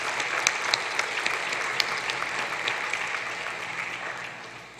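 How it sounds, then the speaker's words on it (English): An audience applauds at the 2022 SSFL school football prize giving ceremony: dense, steady clapping from many hands in a hall that carries on evenly, then fades slightly at the end. "So I ask you to join me in please applauding and congratulating every single player, coach, and school"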